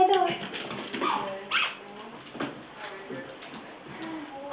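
A dog whimpers and yips in thin, rising cries over a muffled, narrow-band recording, with people talking over much of it.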